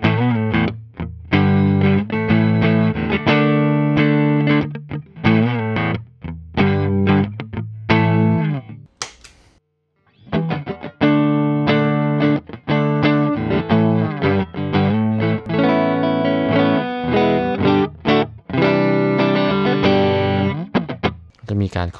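Electric guitar through a Fishbone Sun&Moon dual overdrive pedal, the red overdrive and yellow clean boost sides, played as loud driven chord hits and riffs with a short pause midway, no talk.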